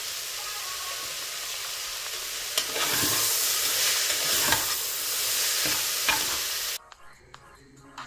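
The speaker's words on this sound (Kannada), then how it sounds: "ಹಸಿ ವಾಸನೆ ಹೋಗೋವರೆಗೂ ಚೆನ್ನಾಗಿ ಫ್ರೈ ಮಾಡ್ಕೋಬೇಕು." Spices and turmeric fry for vegetable pulao, a steady loud sizzle and hiss with occasional scrapes of stirring, dropping away abruptly near the end.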